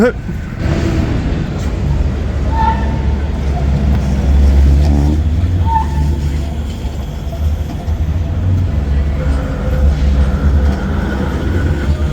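A Manchester Metrolink tram rumbles past at Piccadilly Gardens in the city centre, a low, steady rolling drone with wheel squeals and a faint chime, set in busy street noise.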